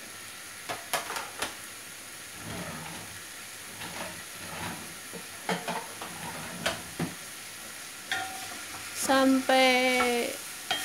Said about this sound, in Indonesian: Saya akan masukkan minyak dan masukkan sayurannya.